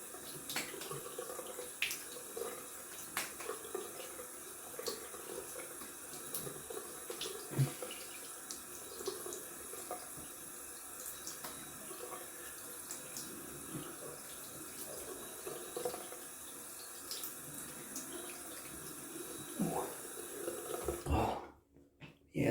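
Water from a tap runs steadily into a sink for around twenty seconds while someone rinses off during a wet shave with a menthol and pine shaving soap, with splashing and small interruptions, then stops abruptly near the end.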